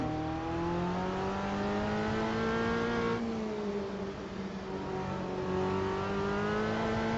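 A race car engine in Automobilista 2 revs continuously and loudly, its pitch climbing then dipping and rising again through a corner, with no talk over it.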